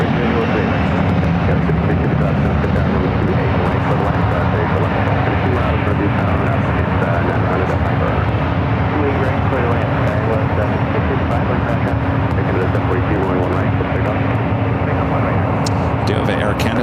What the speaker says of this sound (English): Do have an Air Canada Airbus A220-300.